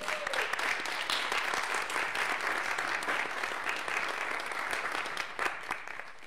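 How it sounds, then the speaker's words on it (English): A church congregation applauds during a Sunday service, a steady dense clapping that holds evenly at moderate level throughout and thins slightly near the end, with no voices over it. "Let's give them all a round of applause."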